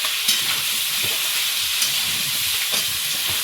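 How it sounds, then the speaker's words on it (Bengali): Green bananas fry with a whole tomato in a pan, sizzling and hissing steadily with a bright crackle, broken by a few soft stirring scrapes and light clinks, close and fairly loud. "কলাটাকে এখন একটু ভালো করে ভেজে নেবো আর একটা টমেটো এর মধ্যে দিয়েছি"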